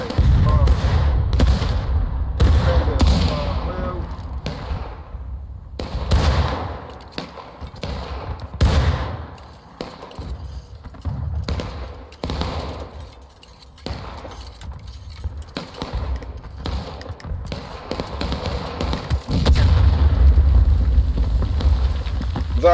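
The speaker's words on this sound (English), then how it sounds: "That was a cannon." Cannon artillery fire in the Civil War video game War of Rights, heavy booming blasts scattered through a busy battle soundscape with gunfire, and players talking over it throughout.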